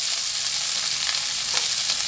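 Onions fry in a pan at home for a pasta dish, giving a steady, dense hiss of sizzling oil with no pauses and no voices.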